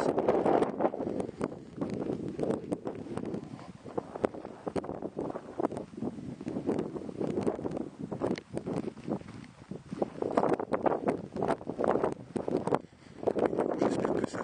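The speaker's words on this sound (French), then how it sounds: "Le vent se fait fort" Steady wind roars and buffets a microphone throughout, with gusty rumbling and rustling but no clear voices.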